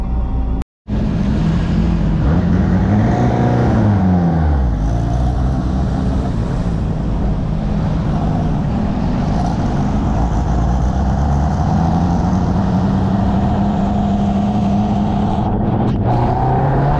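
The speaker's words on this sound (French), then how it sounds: "là j'ai 3 R8 Gordini devant moi et une 4L" Old cars, among them three Renault R8 Gordinis and a Renault 4L, drive close by in a Paris vintage-car procession, engines revving and droning loudly and continuously with shifting pitch as they pull away.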